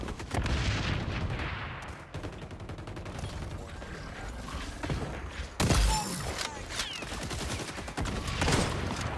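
Gunfire in the XDefiant video game during a sniping match: loud cracking shots and rapid bursts of fire, with a few sharp standout blasts that punctuate a busy, continuous battle din.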